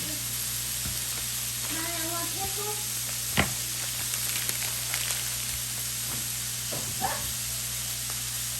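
Onions and sausages fry steadily in a pan with a soft, even sizzle, punctuated by a few sharp clinks and scrapes of a utensil against the pan, plus brief faint voice-like tones early on.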